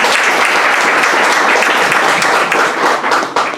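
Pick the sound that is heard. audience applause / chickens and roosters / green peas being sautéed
audience applause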